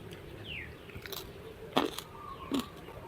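Crispy grilled sticky rice brushed with raw fermented fish paste being bitten, two sharp crunchy bites spaced apart over a quiet outdoor background, close and fairly loud.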